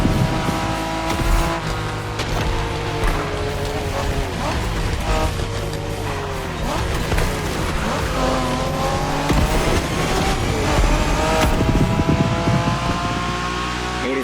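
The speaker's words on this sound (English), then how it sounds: "We're going for some proper Japanese street racing." Street racing cars in The Crew Motorfest, loud engines revving and shifting pitch with tire squeal and whooshing passes, continuous and up close, with voices talking over the engine noise.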